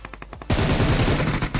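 Rapid automatic gunfire in a PUBG-style battle royale shooter, a loud close burst of fast repeated shots after a brief softer rattle, with no talking.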